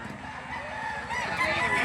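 A rooster crows in one drawn-out call at a market in Lipa City, Batangas, fairly close and moderately loud, with faint background noise around it.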